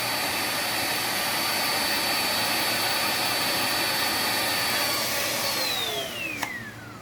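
A Hoover Onepwr Blade cordless vacuum runs on max, a loud steady whine holding near and unbroken for several seconds, then its pitch slides downward near the end as the motor winds down.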